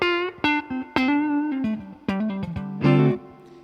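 Electric guitar, a Xaviere XV-840 solid alder Tele-style model, played clean through the neck pickup: a run of single notes and a few chords with warm, rounded tone and short decays, no talking.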